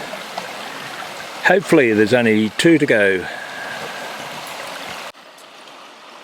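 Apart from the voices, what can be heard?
creek water flowing at a crossing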